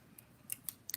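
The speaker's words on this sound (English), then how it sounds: "Cut from one edge to that center cut" Scissors snip through card stock while trimming banner edges, giving several short, crisp cuts spaced irregularly across the second. They are close and fairly quiet, with no talk.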